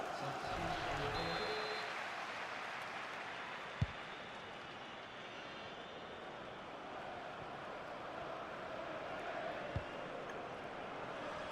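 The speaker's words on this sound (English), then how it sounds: "And the crowd applaud for the VAR." Crowd applause swells in a football video game, a broad wash of clapping from a stadium crowd that fades to a steady murmur, with two sharp knocks along the way.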